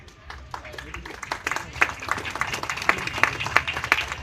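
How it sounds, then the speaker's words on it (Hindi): An audience applauding at a talk on river rights in Pune, a burst of clapping that swells and thickens over a few seconds, moderately loud with crowd murmur beneath. "मैं इन तालियों की आवाज से मान लूं कि ये तीनों अधिकार आप नदी को देना चाहते हैं।"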